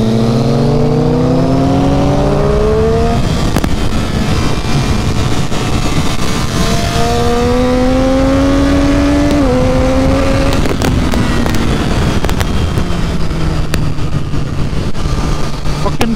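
A Triumph Street Triple 675 motorcycle is ridden fast on hill roads, its engine loud and close, rising in pitch through the gears with shifts and steady wind roar for the whole stretch.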